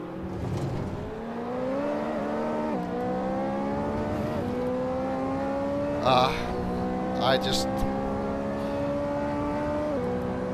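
Racing car engine in the Assetto Corsa video game, screaming loudly and climbing through gears with repeated upshift drops, plus brief bursts of tyre or contact noise partway through.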